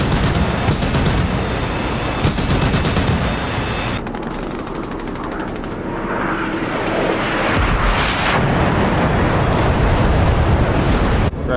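Heavy gunfire and rapid machine-gun bursts roar through a Vietnam War video game battle, with booming rocket impacts on APCs blending into dense, loud, continuous combat noise.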